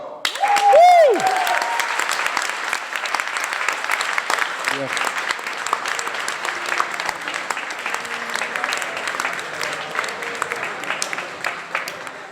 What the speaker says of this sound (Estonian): kestvad ovatsioonid